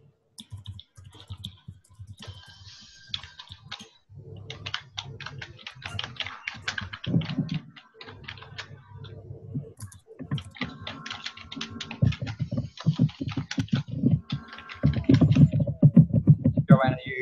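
Someone types on a computer keyboard in rapid, irregular runs of close clicking keystrokes, with short pauses between bursts and a voice speaking faintly beneath.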